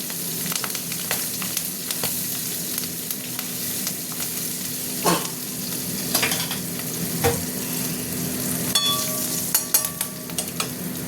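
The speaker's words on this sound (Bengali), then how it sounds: "এবার দিয়ে দিলাম তেলের মধ্যে শুকনো লঙ্কা, কাঁচা লঙ্কা, আর এই যে কালো জিরে দেবো" Dried red chilies, green chilies and nigella seeds fry in hot oil with a continuous close sizzle, punctuated by scattered spatula scrapes and a few clinking knocks near the end, no voices.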